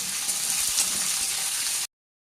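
Chopped onion sizzles in just a little hot oil in a home kitchen, a steady close frying hiss that runs for about two seconds and then cuts off to silence.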